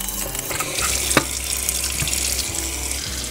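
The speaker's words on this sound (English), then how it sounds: "At this point, we're going to go ahead and rinse it off a little bit." Running water from a kitchen tap pours over a rusted item being rinsed, a steady close hiss and splash with occasional clatter as the object shifts under the stream.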